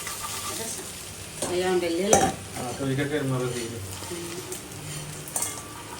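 Onions and vegetables stir-fried dry in a pan, a loud close sizzle with metal spatula scrapes and clinks against the pan, while a person talks over it.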